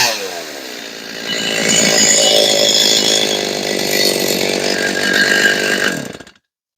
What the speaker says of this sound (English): I took the saw outdoors and I did a test fire of it